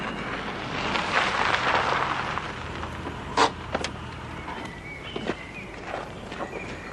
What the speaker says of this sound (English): Gorky's car just went past 2 men.